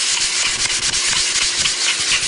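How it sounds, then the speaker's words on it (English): Block sanding the edges of wooden hinges, a dense continuous scratchy rasp of abrasive on wood, loud and close with quick back-and-forth strokes and no voices. "I'll just block sand down both edges so I don't have that puckering effect"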